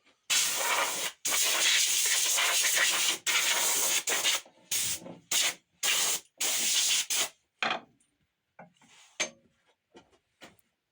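Compressed air blasts over a small walnut wood bowl before oiling: loud, hissing bursts that start nearly continuous, then break into shorter, choppier puffs, with a few faint ones trailing off at the end.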